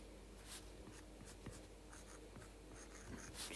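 A stylus writes on a tablet in Procreate, making soft, close scratching strokes with light taps in an irregular rhythm, quiet and alone.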